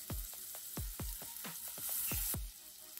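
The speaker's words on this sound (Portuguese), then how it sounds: "vou colocar cebola. Tem que deixar douradinho, viu, gente?" Chopped onion sizzles and spits in hot oil in a pan, a steady crackling fry with quick popping bursts and a few stirring scrapes, close and fairly quiet.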